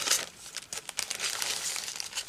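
Printed paper doll cut-outs crinkle and rustle as they are handled, a close, continuous papery crackle with a few sharper crisp bursts and no talking.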